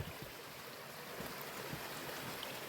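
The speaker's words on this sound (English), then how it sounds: "coming up to a little stream or creek here" A small creek running through old-growth forest, a soft, steady wash of flowing water heard faintly and evenly throughout with no voices.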